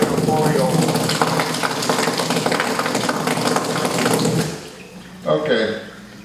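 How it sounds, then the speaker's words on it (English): Water rushes steadily through a valve opened to a higher flow in a demonstration, a loud continuous hiss that cuts off near the end, followed by a brief clunk, with a voice speaking over it. "Go further up, again, a higher water flow."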